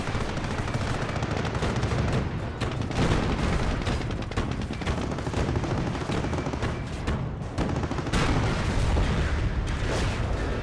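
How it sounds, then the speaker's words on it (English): Tanks in a Company of Heroes battle fire and explode without pause. Rapid machine-gun rattle, heavy cannon shots and booming blasts pile into a dense, continuous roar of combat. "HC gun taking a shot over here, and a T-34-85 going down"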